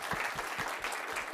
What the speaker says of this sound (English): Let's have a hand for our presenter